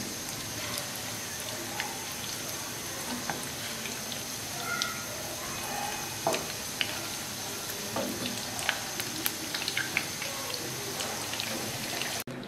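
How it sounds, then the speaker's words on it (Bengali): Cheese fish balls deep-frying golden in hot oil, a steady dense sizzle with scattered small pops and crackles throughout, close and even in level, with no voices. "আমি ফিশ বলগুলোকে সুন্দর করে গোল্ডেন করে ভেজে নিব"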